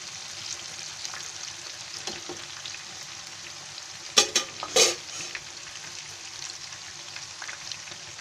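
Karela (bitter gourd) pieces deep frying in hot oil give a steady, close crackling sizzle, with a few sharper pops and bubbling bursts partway through.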